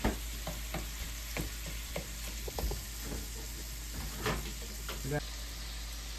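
Salmon frying in a pan while being shredded, a steady sizzle under scattered scraping and stirring knocks from the utensil, close and fairly quiet, with a voice briefly speaking.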